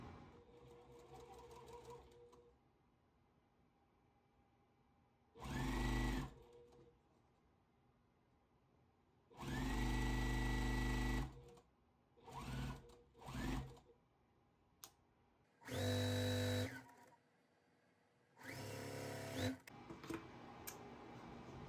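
A sewing machine stitches a quilt block for a four-patch basket design, running in several short bursts of fast whirring of varying length, separated by quiet pauses, close and loud.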